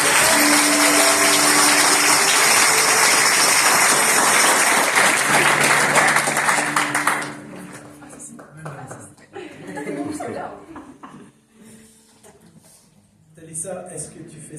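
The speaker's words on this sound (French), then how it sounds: "Alors pour Talissa, on applaudit." A church congregation gathered for a baptism breaks into loud, dense applause for about seven seconds, then it fades out into scattered claps, laughter and talking.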